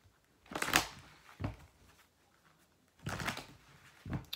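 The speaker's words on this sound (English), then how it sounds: "a couple more shuffles." Cards are shuffled in two or three quick riffling bursts, close and fairly soft, separated by short quiet gaps.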